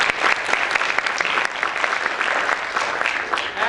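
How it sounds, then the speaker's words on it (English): Sustained, dense applause from a conference audience after a media panel, loud and even throughout with a faint murmur of the crowd beneath. "Please give them a round of applause."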